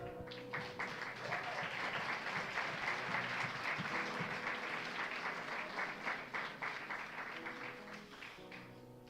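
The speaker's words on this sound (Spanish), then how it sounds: "Dale un fuerte aplauso al Señor." A church congregation at a Sunday service breaks into loud, sustained applause lasting about nine seconds, dense and even throughout, with steady instrumental music sounding underneath.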